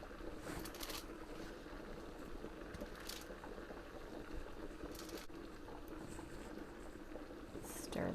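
Chicken broth at a steady rolling boil, a continuous bubbling hiss with small splashes as dumplings are dropped in, close and even throughout.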